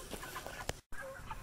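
Pasture-raised chickens clucking nearby, a few short calls and murmurs over steady outdoor background, with a brief total dropout in the middle.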